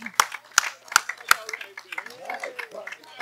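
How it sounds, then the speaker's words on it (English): Four sharp hand claps ring out in a steady rhythm during a church radio broadcast, followed by murmuring voices in the room. "I'm going to give God a hand clap for myself."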